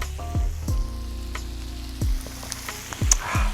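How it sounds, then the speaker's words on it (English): White wine hitting a hot pan of mussels cooked Portuguese style, producing a loud, close, steady sizzle with several sharp clanks of metal against the pan, no voices. "I'm going to increase the heat a little bit more, and I'm going to go in with the white wine"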